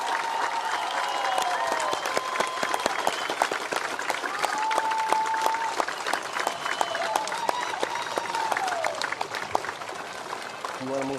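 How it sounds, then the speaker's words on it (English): A crowd at a 2021 eighth-grade moving-up ceremony gives the students a loud, sustained round of applause, with cheers and whistles rising over the dense clapping. "I'd like at this time one more round of applause for all of our students moving up."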